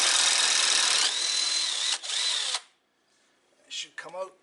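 Power drill driving a 7/16 socket to remove a bolt on a Noma Performance 10/29 snow blower, a close, loud whirring burst for about two and a half seconds, then a short pause and two brief follow-up zips.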